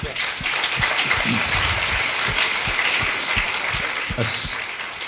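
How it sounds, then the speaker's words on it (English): Audience applause from a community gathering on winter cycling, a steady wash of many hands clapping throughout, fairly loud, with a voice briefly cutting in near the end. "So give yourselves a round of applause"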